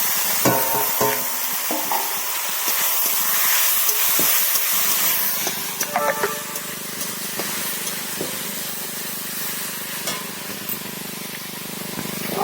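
Small prawns fry in spice paste with a loud, hissing sizzle that persists over several seconds, punctuated by metallic stirring clinks and scrapes close to the pan, without talk.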